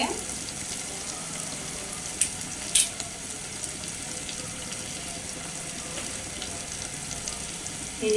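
Goat head meat with chana dal sautés in a pan, giving a low, even sizzle at moderate distance with a couple of brief clinks from a utensil against the pan partway through.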